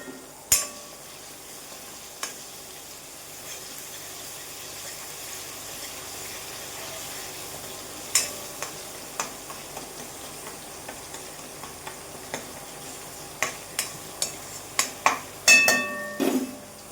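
Faint cooking sounds of tomatoes in a pan: a low simmer with scattered clicks and utensil taps, growing busier toward the end, with no talking.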